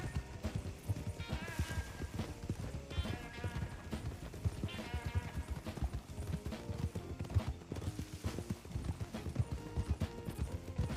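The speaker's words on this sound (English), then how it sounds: "I can call my horse from very far away and it'll come to me" Horse hooves clip-clop in steady rhythm in Red Dead Redemption, near and continuous, with a few whinny-like calls over the trotting.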